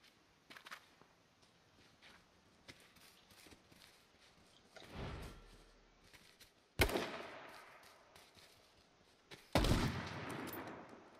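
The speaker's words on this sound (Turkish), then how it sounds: "ne güzel sıkıyorum mermi" Gunfire in H1Z1 King of the Kill, with scattered faint shots early on, then three loud, sharp bursts spaced a few seconds apart, each decaying quickly in an otherwise quiet scene.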